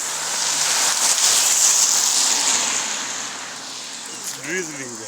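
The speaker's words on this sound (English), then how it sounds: "I'm being rained on right now" Light drizzle falls on a nature trail during a cycling trip, a soft broadband hiss that swells and then eases, with a brief voice near the end.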